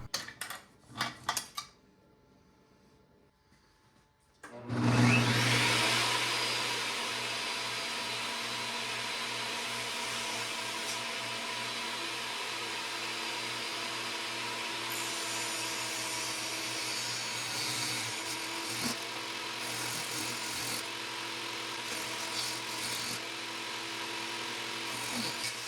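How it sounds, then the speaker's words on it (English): A saw rips pallet wood boards down to three-inch strips, starting abruptly after a few quiet seconds and holding a loud, steady, close roar for about twenty seconds. "Now I'm going to rip the boards to 3 inches."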